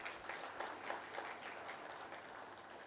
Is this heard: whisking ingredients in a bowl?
no